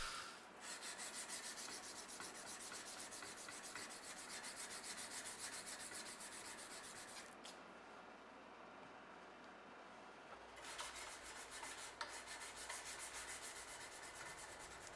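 A stainless San Mai dagger blade is hand sanded toward a satin finish with steady back-and-forth rasping strokes, close and continuous, briefly pausing midway before resuming.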